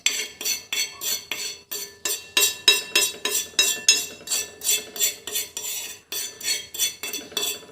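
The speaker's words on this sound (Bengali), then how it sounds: "দিয়ে ভালো করে কিন্তু মিশিয়ে নিচ্ছি" Utensil stirring a mustard oil hair-dye mixture in a bowl, steady rhythmic metallic clinks and scrapes about twice a second, close and clear, with no voices.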